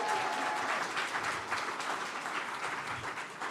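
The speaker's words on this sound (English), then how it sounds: "give me your biggest round of applause that you can right now" A room of attendees at an entrepreneur speaker session claps hard and fast on cue, a dense burst of applause that holds steady and thins slightly toward the end.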